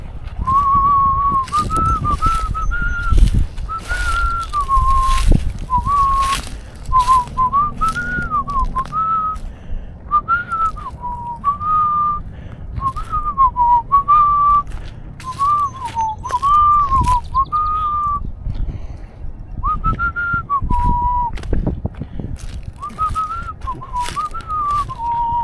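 A person outdoors by the water whistles in short repeated rising-and-falling phrases to chase off geese, loud and close, with wind buffeting and clicking handling noises underneath.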